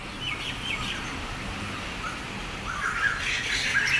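An unidentified bird calls outdoors on a sunny day. Its faint squawks and high chirps come and go over a steady background hiss.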